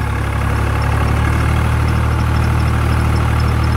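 An old-model Swaraj tractor engine runs steadily at about 1600 rpm with a Landforce rotavator attached, giving a loud, constant low diesel drone close by with no pauses.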